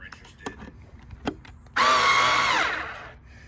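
A Black+Decker 4V MAX cordless screwdriver drives a screw: a short, loud motor whir lasting about a second and a half, preceded by a few light clicks and handling taps, close up.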